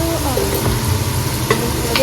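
Potatoes sizzle in hot oil while a utensil scrapes and stirs the pan, with a few light knocks against the metal.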